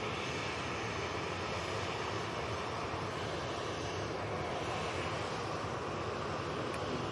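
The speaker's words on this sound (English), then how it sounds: "Next out for TUI, we have the 737-800 going to Tenerife." A TUI Boeing 737-800 jet at Manchester Airport produces a continuous, moderately distant engine rumble and hiss, steady and unbroken with no talk.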